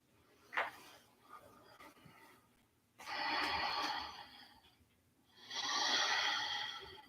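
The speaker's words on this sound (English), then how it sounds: "And return to your Ujjayi breathing." Ujjayi breathing during a yoga session comes as slow, audible, throaty breaths through the constricted throat. There are two long hissing exhales after a short sniff, close and soft, with no talking.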